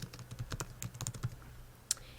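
Quick bursts of keystrokes on a computer keyboard while entering login details, close and fairly quiet, ending with a sharper final key tap.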